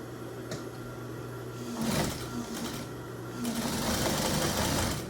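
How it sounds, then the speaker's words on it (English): A sewing machine top stitching the edge of a homemade apron runs in steady continuous bursts, close and fairly loud, with a brief pause midway before it speeds up again. "Let's top stitch this top."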